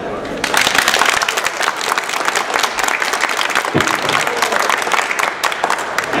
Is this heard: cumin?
no